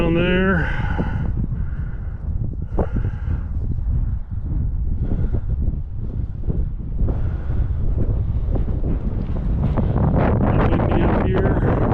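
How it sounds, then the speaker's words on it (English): Strong mountain wind batters the microphone near a summit, a heavy, rumbling buffeting roar that surges and eases throughout, with a voice briefly audible at the start and faint bursts of talk underneath. "Windy up here."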